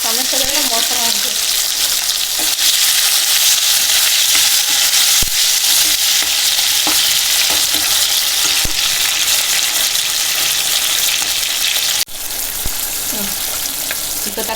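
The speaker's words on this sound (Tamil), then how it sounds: "இப்போ தக்காளி நல்லா வதங்கிடுச்சு." Tomatoes sauté in a pan for a Tamil fish curry, giving a loud, constant frying hiss with faint scattered stirring taps, close up and without speech.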